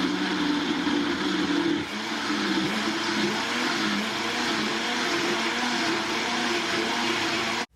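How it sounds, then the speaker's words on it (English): A blender motor runs steadily and loudly throughout, blending tomatoes and peppers, a constant whirring drone with a slight dip in pitch partway through. "once the tomato starts blending, you'll have enough liquid in the blender"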